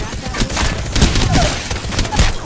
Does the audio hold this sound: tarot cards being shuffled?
no